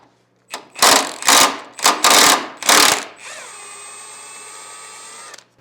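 An impact wrench working on custom car axles in a garage gives four loud, short rattling bursts in quick succession, then a steady, sustained whine that holds for a couple of seconds before cutting off.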